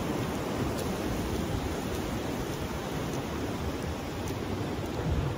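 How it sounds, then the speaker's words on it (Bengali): Steady rain falls on Mandarmani sea beach in West Bengal, a dense, even wash of hiss and patter holding at one level from start to finish, close and loud, with no voices. "ভালোই বৃষ্টি পড়ছে, ভিজে যাচ্ছি।"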